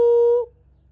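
A female African grey parrot gives a single clear, steady whistled note lasting about half a second, close to the microphone, then falls silent.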